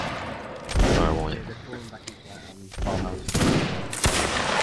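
Musket gunfire in the video game Mount and Blade Napoleonic Wars during a Waterloo battle, loud ragged volleys of many shots crackling together in two waves, with voices talking over the firing.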